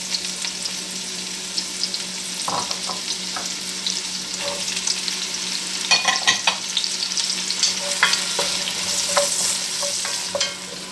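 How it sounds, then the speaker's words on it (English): Carrots and onions sauté in a hot pan with a continuous sizzle, punctuated by irregular clicks and scrapes of stirring that grow busier toward the end. "the carrots and onions have been sauteing for about 5 minutes"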